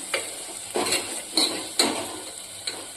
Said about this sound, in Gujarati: અને આપણે સાતરી લઈશું